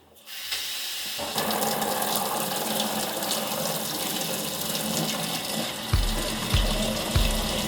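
A portable camping washing machine fills with plain water for rinsing, a steady rushing stream that starts abruptly and runs continuously at close range, with a few low thumps near the end.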